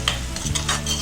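Spice masala roasts in oil in a pan for okra kadhi, a constant close sizzle with a few scraping stirs through it.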